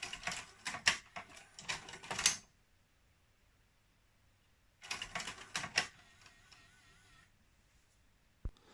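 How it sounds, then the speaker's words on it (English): The carriage mechanism of a Pioneer PD-X77M cartridge-style CD changer whirs and clatters in two close mechanical bursts of clicking and grinding, separated by near silence and ending in a single click. "You'll notice it pushes the entire carriage down with the laser."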